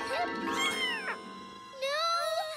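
A cartoon kitten meows several times in rising and falling high-pitched cries, loud and close, with a short break before a final run of meows.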